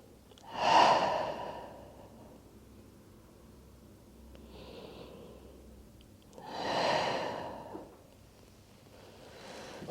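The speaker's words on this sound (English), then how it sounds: "Take 2 deep breaths." Two deep breaths during a yin yoga session, each a slow, close inhale-exhale swell a few seconds apart, with soft rustling in between and no talking.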